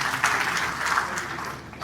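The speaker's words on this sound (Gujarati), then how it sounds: "તાળી પાડો એકવાર એમના માટે." An audience claps at a gathering, giving a steady, moderately loud burst of applause that carries through without a break and has no talk over it.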